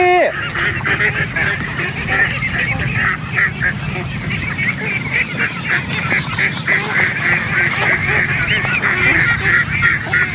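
Farm ducks call continuously as they return home, a busy chorus of honking quacks close by, with people talking over it.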